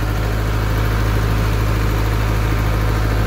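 A reconditioned open-frame 40 kVA diesel generator runs steadily at close range, a loud constant low-pitched engine drone and hum with no breaks.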